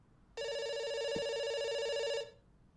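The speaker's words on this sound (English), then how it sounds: "It's still ringing." A telephone ringing inside a video game: one long, loud electronic ring of about two seconds with a rich buzzing tone, starting abruptly and fading quickly, heard alone over faint background noise.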